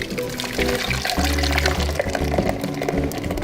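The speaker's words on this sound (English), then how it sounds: "Now we move over here and we pour this mixture." Grape juice mixture for Armenian sharots pours steadily into a heavy-bottomed pan, a continuous close liquid splash with some clinking and kitchen noise, no talking.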